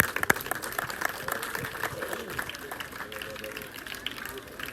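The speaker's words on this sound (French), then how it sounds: "chef du village l'infatigable Issa Niang qui mérite vraiment des acclamations" At an outdoor flag-raising ceremony with local authorities, a crowd applauds and cheers for the village chief. The clapping is fairly distant and diffuse, mixed with voices and talk throughout.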